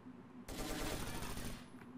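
A burst of AK rifle fire in the video game Takedown Red Sabre, a dense rattling volley lasting about a second over a low background hum, close and fairly loud, with no speech.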